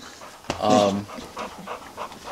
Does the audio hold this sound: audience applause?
no